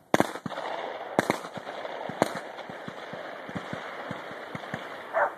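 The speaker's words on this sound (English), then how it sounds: "I heard a lot of shooting" Several sharp gunshots from hunters at a tower shoot on Dunn Creek crack out in irregular succession, a few loud and close with others fainter and more distant, with no talking.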